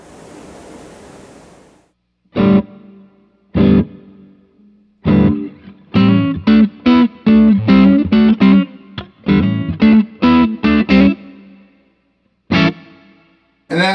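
An electric guitar through a Fender Bassbreaker 15 amp with reverb plays after a hiss fades out: a few single distorted strikes, then a busy run of choppy chords, and a final hit, each ringing with a short reverb tail.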